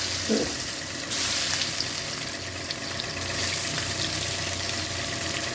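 Onions frying in oil with fennel seeds and bay leaves, for a spiced liver bhuna, make a continuous low sizzle nearby, with brief louder bursts of crackling.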